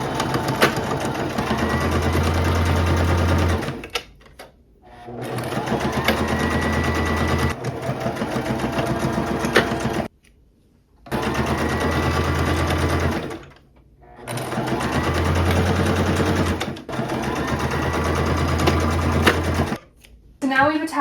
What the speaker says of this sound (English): So now we can just sew straight down the front seam and the back seam